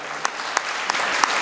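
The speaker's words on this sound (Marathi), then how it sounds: "त्यांच्याकरता जोरात एकदा टाळी वाजवा" A crowd at a devotional Dnyaneshwari recitation gathering claps together in four loud, evenly spaced beats over a low background hum.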